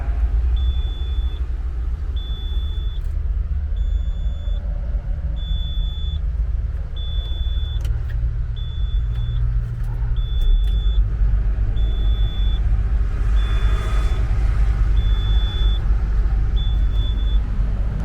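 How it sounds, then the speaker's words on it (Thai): A Komatsu LZ360W wheeled scrap grapple loader runs with a steady low engine rumble that swells after about ten seconds, while a sharp warning beep repeats at an even pace throughout. "เดี๋ยวจะสตาร์ทเครื่องให้ดูนะครับ"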